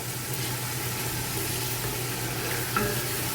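Sliced onions frying in a pot of oil for chicken biryani give off a steady, even sizzle up close, with a faint low hum underneath and no talking.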